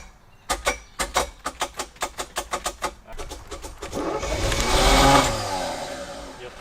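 The seized engine of a Chevy K5, abandoned and flooded for over 20 years, cranks in a fast, even series of about a dozen loud chugs, then catches and roars briefly before dying away, close and loud.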